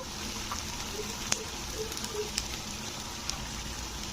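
Chili powder is stirred into ginger-garlic masala frying in a pan for a tilapia fish curry, giving a continuous soft sizzling hiss with scattered small crackles and pops at moderate, close volume.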